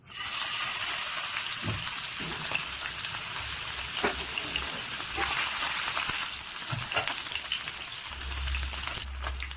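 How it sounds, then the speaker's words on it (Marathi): Paneer pieces sizzle and crackle steadily while frying in oil in a pan, a dense continuous hiss with scattered pops and spits throughout, close and fairly loud, with no talking. "आता याला फ्राय करून घेऊया। फ्राय करून घेऊया आपण जे कट केलेलं। मध्ये आता पनीरचे पीस ऍड करूया।"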